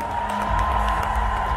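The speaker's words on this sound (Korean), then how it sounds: "여러분들 다시 한번 큰 박수 부탁드릴게요." A concert audience at a show claps and cheers for the production staff. The applause is a short, steady, full wash of sound at moderate loudness.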